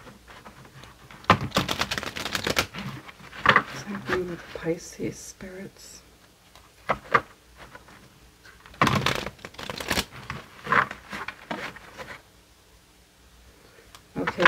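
Quick riffling bursts of tarot cards being shuffled, repeated several times, alternating with a soft voice talking.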